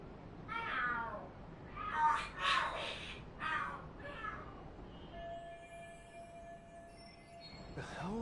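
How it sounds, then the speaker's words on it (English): Cats fighting and screaming in Lost Judgment: several drawn-out yowls and screeches at a distance, fairly faint, followed by a thin ringing tone and another cry at the end. "The hell? Are there cats fighting?"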